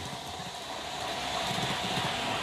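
A TGV model train shuttles back and forth over a monitored test section of track, giving a steady rolling whir with a faint rhythmic clatter that carries on unbroken, with no talking.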